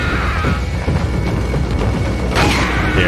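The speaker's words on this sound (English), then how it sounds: "I'll use a flashbang." A flashbang grenade detonating in the video game Resident Evil 4, a loud, sustained boom with rumbling low end and a sharp bright burst near the end, with no talk over it.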